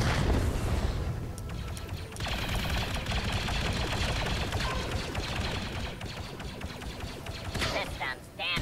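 Loud, dense virtual gunfire from a Clone Wars VR shooter, continuous rattling bursts and mechanical clatter filling the whole stretch, with a brief dip near two seconds and sharper crackles toward the end.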